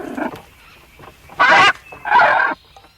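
Two blue-and-yellow macaw chicks inside a hollow dead palm trunk in the Amazon give harsh, raspy squawks: a softer call first, then two loud, drawn-out cries close by.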